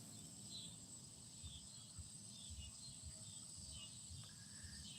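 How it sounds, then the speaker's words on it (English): A faint, continuous high-pitched insect chorus drones steadily through a quiet evening background, with a few distant bird chirps. "I hear our friends the cicadas, but as we in the South call them katydids"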